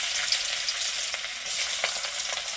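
Chopped garlic sizzles in hot oil for chilli chicken, a constant close, loud frying hiss with small crackling spikes and stirring, no voices.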